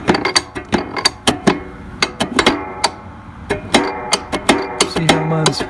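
The height-adjust button and latch on a Greenworks 48V brushless cordless 17-inch mower click repeatedly, a rapid run of sharp plastic-and-metal ratcheting clicks, close and fairly loud.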